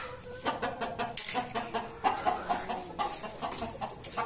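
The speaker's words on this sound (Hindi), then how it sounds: "ताकि हमारी ये सारी मुर्गियां बाहर आ जाएं" Chickens clucking steadily as they leave a storage coop, several birds close by with overlapping calls and squawks that keep going without a break.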